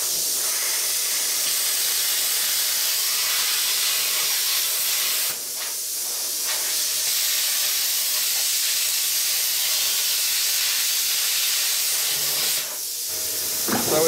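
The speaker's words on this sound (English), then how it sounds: "I'll just get the plasma cutter and cut around it." A plasma cutter cuts through a scrap metal hose with a loud, continuous hissing roar of compressed air, briefly dipping twice as the torch pauses.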